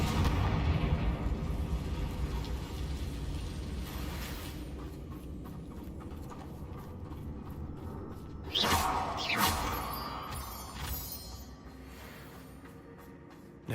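A fiery Confringo spell blast from the game Hogwarts Legacy, a low rumbling explosion with a sharp whooshing burst partway through over a steady background roar, moderately loud.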